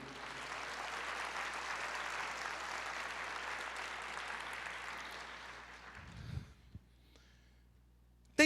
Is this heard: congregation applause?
yes